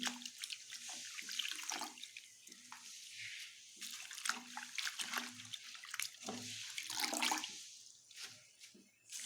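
Greens being washed in water at a kitchen sink: quiet, intermittent splashing and sloshing with drips and running water, close and soft, coming in irregular bursts.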